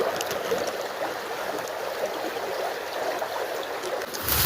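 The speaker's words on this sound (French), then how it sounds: "c'est la rivière juste derrière moi." Steady broadband rush of a flowing mountain river, continuous and fairly close, with no voices over it.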